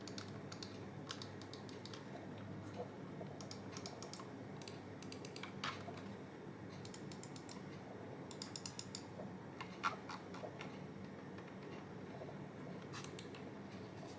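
Button clicks from a Logitech G Pro Wireless gaming mouse sound in quick irregular bursts of small sharp taps, close and faint over a quiet hum, with no one speaking.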